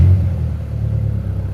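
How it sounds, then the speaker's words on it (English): The engine of an Audi S3 8L, running during electrical fault-finding with back probing, gives a low, steady rumble close by, loud at the start and then settling into an even idle hum. "I'm just gonna turn the engine on, see if it spikes."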